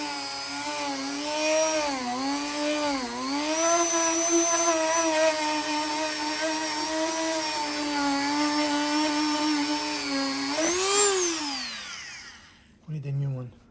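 A power drill driving screws to reassemble a broken toolbox, one long sustained whir that wavers in pitch, winds up and down near the end, then stops, followed by a brief low knock.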